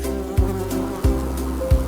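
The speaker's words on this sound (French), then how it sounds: "il y avait un fort bourdonnement dans la pièce provenant du numéro 4" Loud, close insect buzzing like a bee, a continuous drone with slight pulses about every two-thirds of a second, used as a sound effect in a French children's counting song.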